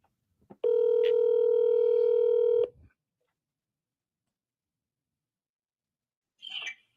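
Telephone line while placing a call to a property seller's number: a steady electronic tone of about two seconds, then silence, then a brief faint burst of sound near the end.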